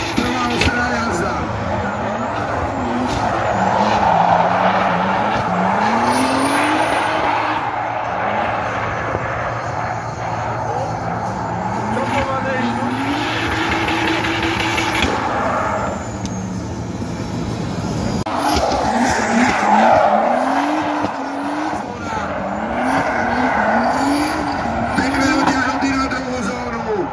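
A race car makes a competition run at a motorsport event. The engine rises and falls sharply through repeated shifts with loud, close-to-distant passes and some tire noise, while a commentator talks over it throughout.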